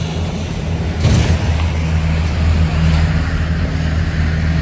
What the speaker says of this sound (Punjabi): ਨਾਲ ਹੀ ਰੋਡ ਲੰਘਦਾ ਆ ਰੋਡ ਲੰਘਣ ਡਿਆ ਇਥੋਂ ਗੱਡੀਆਂ ਲੰਘਦੀਆਂ